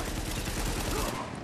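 Rapid AK assault rifle bursts in Tom Clancy's The Division, a dense run of sharp close shots filling most of the moment before tapering off near the end.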